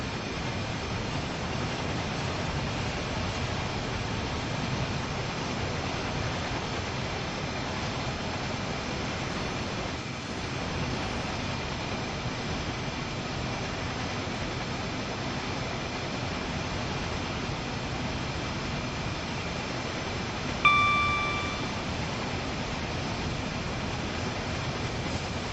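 Class 33 diesel locomotive in Train Sim World 5 on the Manchester Airport commuter route, a continuous rolling rumble and engine drone at steady loudness, with a brief sharp tonal chime near the end.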